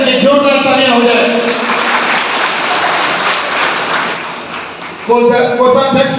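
An audience at a committee meeting bursts into loud, sustained applause that fills the room, briefly overlapped at the start and end by an amplified voice speaking.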